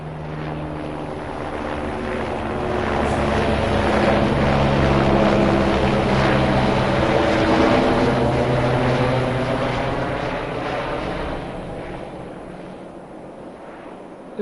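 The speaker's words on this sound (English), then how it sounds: "Looks like a Fireys helicopter." A Fireys firefighting helicopter in Farming Simulator 22 passes by, its rotor drone swelling to a loud peak midway and then fading, with no talking over it.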